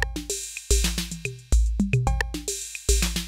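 Randomized drum pattern programmed in Cubase 14, with punchy kick and snare hits, ringing tonal toms and a constant bright cymbal wash, looping in a busy, slightly irregular rhythm that restarts twice; loud, close and alone.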